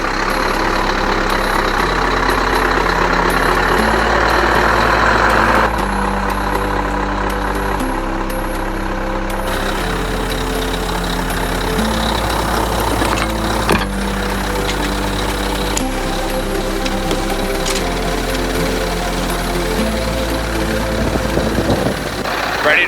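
A heavy diesel road train truck engine idles loudly with a deep, steady rumble in Perth, its pitch shifting now and then as the revs change, with occasional clanks.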